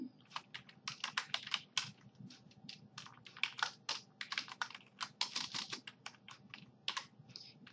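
Rapid, uneven keystrokes clatter on a computer keyboard while jQuery code is typed, a near and steady run of clicks and taps with short pauses and no talk.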